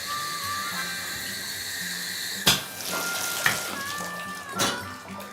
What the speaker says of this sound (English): So when I turn the shower on, I put the drain stopper on to see if it does actually hold water.